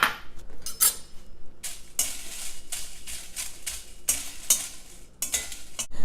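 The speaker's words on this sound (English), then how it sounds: "You just have to roast the chilies until it's crispy." Dry red chilies roasting in a warm kadai, a rapid rhythmic rattle and scrape of a spatula tossing them against the pan, close and crisp, with faint crackling between strokes.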